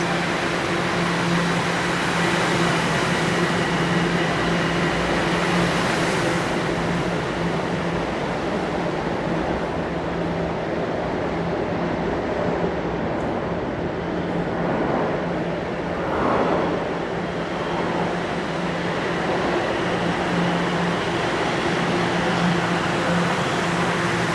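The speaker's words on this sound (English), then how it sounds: "That's the northbound train rolling in." A northbound Toronto subway train arrives at York Mills station, a steady loud rumble and rolling roar filling the platform throughout, with no voices.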